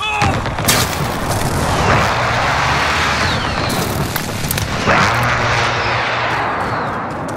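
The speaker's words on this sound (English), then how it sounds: "Friendly precision airstrike on the way." Rapid booming explosions and gunfire from a precision airstrike in a shooter video game, dense and loud, with roaring blasts layered over continuous crackling fire.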